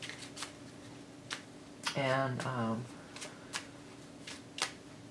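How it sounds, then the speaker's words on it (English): Animal totem cards are riffled and shuffled in a quick burst, with a few light taps and clicks around it and a brief spoken word. "let me go ahead and start shuffling up your animal totem cards here."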